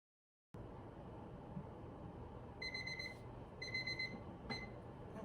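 Kitchen timer alarm going off after five minutes of stirring jam on the stove, two clear bursts of rapid high beeping over a steady low background hum.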